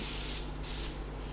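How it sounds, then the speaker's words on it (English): A spray bottle mists water onto a wig's hair in a steady close hiss, with a second short spritz near the end. "I'm gonna use some water in this spray bottle"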